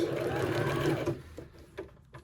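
A sewing machine stitches the fabric of a tiered maxi skirt, whirring steadily and close for about a second before stopping, followed by a few faint clicks and handling sounds.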